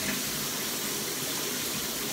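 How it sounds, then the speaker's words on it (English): Shower water running in a home bathroom, a continuous dense rushing hiss at steady level with no talk. "I always be the last one taking a shower,"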